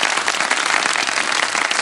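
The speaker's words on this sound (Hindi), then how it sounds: "ताली बजा दे हमारी बेटी के लिए भाई।" A studio audience claps steadily in dense, continuous applause that fills the space, close and bright, with no break and no clear voices over it.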